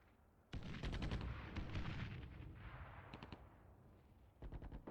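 In the Armored Brigade II war game, artillery and gunfire erupt in heavy, rumbling bursts with rapid repeated cracks, then fade to a lighter rumble before another volley.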